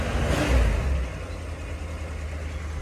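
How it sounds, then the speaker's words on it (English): A stock Dodge Challenger engine runs steadily after a cold start, a loud low rumble that eases slightly from a brief swell, with any light rocker arm clatter buried in the drone. "I almost want to say rocker arm clatter"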